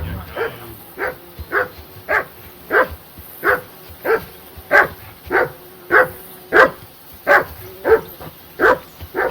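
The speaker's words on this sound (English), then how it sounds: "I assume you can hear that damn dog of yours barking." A dog barks in Kingdom Come: Deliverance II, a steady run of about a dozen evenly spaced, moderately loud barks over a quiet outdoor ambience.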